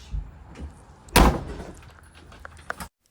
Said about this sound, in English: The unhinged woman slamming the door on Mark the process server